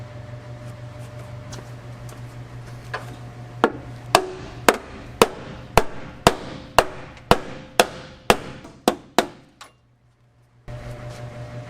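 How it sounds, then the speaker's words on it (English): A run of about a dozen sharp metallic hammer blows on a car engine's valve cover, evenly spaced and close, over a steady low hum that stops briefly near the end. "I'm opting for hammering this in instead of cutting my valve cover."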